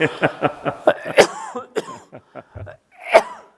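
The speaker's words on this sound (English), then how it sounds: "I'm gonna have to cough again." A run of harsh, bursty coughs and throat-clearing sounds, close by and fairly loud, coming in quick uneven bursts with short pauses between.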